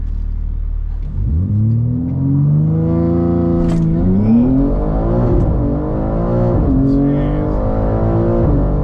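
A Stage 2 BMW G80 M3 Competition xDrive launches hard during a Draggy timing run, its engine note climbing loudly through rising revs with brief dips at each gear change, near and continuous.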